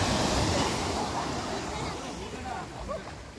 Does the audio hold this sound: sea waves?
yes